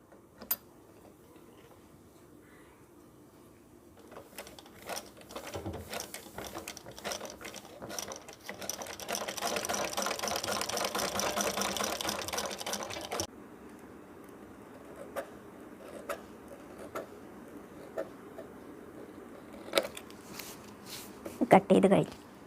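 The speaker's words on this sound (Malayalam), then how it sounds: "ഇനി ആദ്യം വേണ്ടത് ഈ പ്ലാസ്റ്റിക് ഷീറ്റുമായിട്ട് സ്റ്റിച്ച് ചെയ്ത് പിടിപ്പിക്കുകയാണ്" A sewing machine stitching a plastic sheet onto a baby bib, with quiet ticking mechanical clatter that builds into a steady whirring run of stitches and then drops back to scattered clicks.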